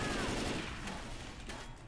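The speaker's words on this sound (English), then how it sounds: "Wow, talk about gunfire." Dense rapid gunfire in Left 4 Dead 2, a continuous burst of shots with sharp cracks, heard through game audio at low volume.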